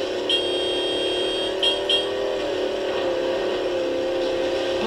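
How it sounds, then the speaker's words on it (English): In a video game, a Mongoose vehicle's horn gives three short beeps near the start over a steady engine hum. "The right trigger beeps the horn."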